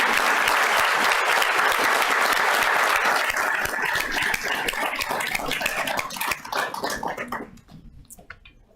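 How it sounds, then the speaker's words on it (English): A room full of people applauds at a town council meeting's awards segment, a dense, loud wash of clapping that holds steady for several seconds, then thins and fades out to a few scattered claps. "Let's give them a round of applause."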